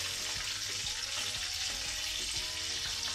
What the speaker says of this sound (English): You don't really need to flip them because they're being deep fried